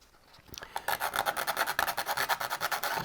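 Sandpaper or an abrasive scuffing a surface during aileron servo installation on an Explorer BF F5J glider, heard as quick, rhythmic back-and-forth rasping strokes, close and fairly loud, with no talking.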